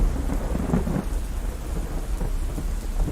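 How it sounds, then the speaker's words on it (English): Steady rain pours down while low thunder rumbles in the distance, a continuous wash of drops over a deep, rolling undertone, with no voices. "All I could hear, though, was the sound of rain and rumbling thunder in the distance."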